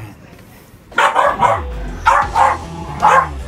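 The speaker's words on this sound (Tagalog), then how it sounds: "Ingay ng aso." A dog barks three times at a home at night, sharp close yips in quick pairs separated by short pauses, loud against a quiet background.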